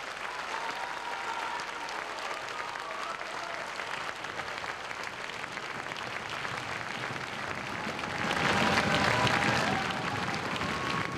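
Audience applause for the Hong Kong Chamber Orchestra at a live concert event, a dense, steady wash of clapping from a large crowd that swells louder toward the end, with no voices heard over it.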